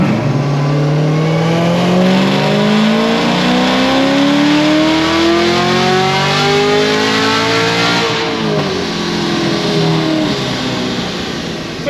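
A Camaro ZL1 engine pulls on a dyno, revving in one long, loud, continuous climb for about eight seconds before easing off slightly, with the roar staying steady and close.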